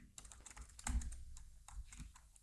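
Keys on a computer keyboard are tapped in a quick, close burst of irregular clicks, with a slightly heavier keystroke in the middle, heard alone with no talking.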